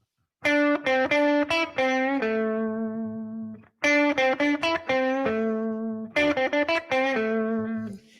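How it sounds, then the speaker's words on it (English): A distorted electric guitar plays a short blues phrase in A three times, quick stabbed notes each sliding into a ringing held note. "I have a blues lick that I've used in teaching a lot"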